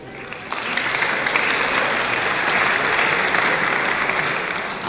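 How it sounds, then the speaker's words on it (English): Conference audience applauding the speakers at a security talk, a steady, dense wash of clapping that swells in after half a second and holds evenly at full strength. "Please give an applause for Zack and Erin."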